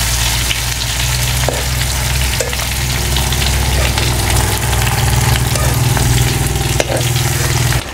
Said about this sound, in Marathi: सगळी बाजून आपण छान असं हे परतून घ्यायचं आहे.